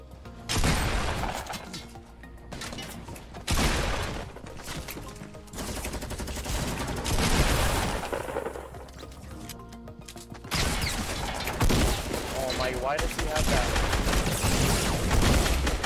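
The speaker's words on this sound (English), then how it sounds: "Minigun or LMG." Sustained bursts of minigun or LMG gunfire in Fortnite, loud and dense, coming in long rapid streams separated by brief gaps, with crashing and breaking impacts mixed in.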